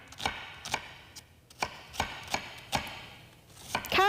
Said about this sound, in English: Okay, we're going to mince our onion.